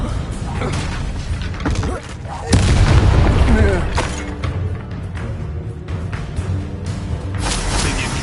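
A fiery Incendio spell blast in Hogwarts Legacy erupts as a loud booming burst midway through a magic duel, amid ongoing combat noise and a player's spoken voice.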